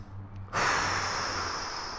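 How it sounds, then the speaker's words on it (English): Deep breathing during an overhead squat: after a quiet moment, a strong, steady breathy exhale starts and rushes on close to the mic until the end, with no talking. "Big breath in here. Exhale out."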